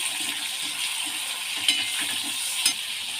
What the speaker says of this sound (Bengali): চিংড়ি মাছটাকেও একটু ভাজা ভাজা করে নেব।